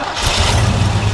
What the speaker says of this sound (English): Starts right up with the turn of a key.